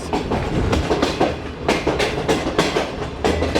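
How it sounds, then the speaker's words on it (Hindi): A Shalimar Express passenger train rolls in, its carriages giving a loud, steady clickety-clack of wheels over rail joints, with rhythmic bursts of clatter repeating close by. "ये आ गई हमारी खूबसूरत सी शालीमार एक्सप्रेस"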